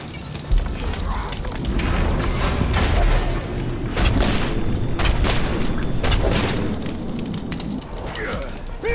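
Explosions and fiery blasts in the video game Middle-earth: Shadow of War on Xbox One form a loud, rumbling barrage of repeated booms mixed with game voices.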